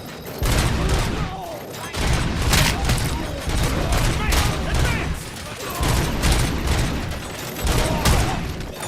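Loud, sustained squad gunfire in a video game set in Detroit, dense overlapping bursts of shots and booms repeating in waves for several seconds, with battle shouts mixed underneath.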